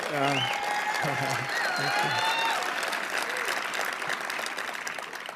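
A tribute audience breaks into applause, a dense wash of clapping heard under a voice speaking at the start, continuing steadily and then tapering slightly toward the end.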